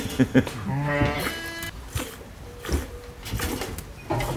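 Sheep bleat in a mountain flock on rocky slopes, one clear drawn-out bleat up close followed by fainter flock noise and scattered movement, with a voice speaking over it.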